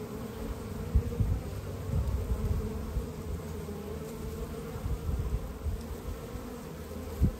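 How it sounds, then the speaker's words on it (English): Honey bees drone at a backyard hive on a mild February day, a dense continuous buzz with individual bees passing close now and then. "Look at these bees right here."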